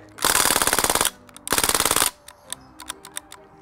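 An AR-15 style BB gun firing rapid full-auto bursts at a pumpkin, two loud close strings of quick snapping shots separated by a short pause, then a few scattered single pops and clicks.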